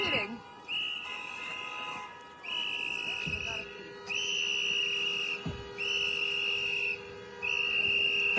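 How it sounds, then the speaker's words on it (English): Whistles blown over and over at a street protest against ICE in Minneapolis: shrill, sustained blasts come in steady bursts every second or so over a constant murmur of crowd noise. "I'm gonna save you from the whistles for a little bit."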